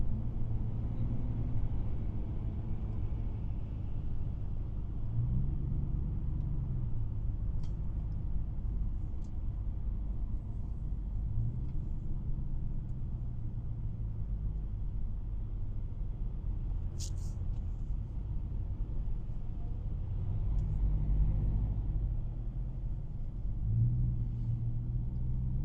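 Steady low rumble of road traffic and passing cars heard from nearby, continuous and fairly loud throughout, with slow swells as vehicles go by and no talk.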